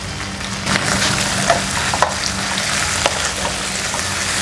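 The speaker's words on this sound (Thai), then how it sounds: "ผัดให้กระเทียมมีกลิ่นออกมานะคะจะเริ่มหอมพริกกระเทียมแล้วก็ใส่กุ้งลงไปค่ะ" Loud close sizzling and frying as shrimp stir-fry with pounded chili and garlic in oil in a pan, with scraping stirs and occasional clinks of the utensil.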